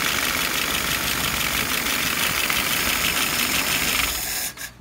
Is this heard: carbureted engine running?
yes